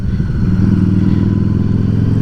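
Harley-Davidson Street 750 motorcycle fitted with a Vance & Hines exhaust and a Power Commander, idling loud and close with a deep, steady, throbbing rumble that holds for about two seconds without speech.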